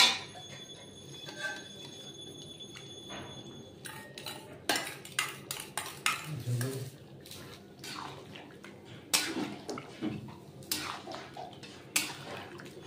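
Beaten sour yogurt being stirred into mutton cooking in a pot, with repeated sharp metallic clanks and scrapes of a spoon against the pan over a low wet background, close and irregular.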